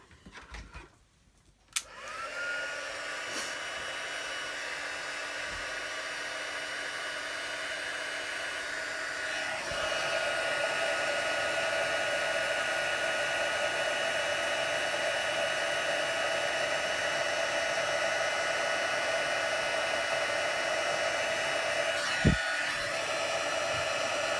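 A craft heat tool blows hot air in a continuous close whir that starts after a click and grows slightly louder partway through, with a brief knock near the end.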